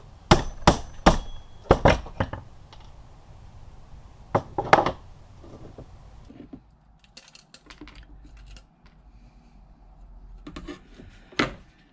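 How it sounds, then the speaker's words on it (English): Several sharp metallic taps of a hammer on a circuit board in quick clusters, close and loud, followed by quieter clinks and light rattling as small plates and pins fall loose. "we're going to tap it with the hammer"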